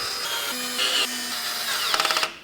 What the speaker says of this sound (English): And screw them down into place.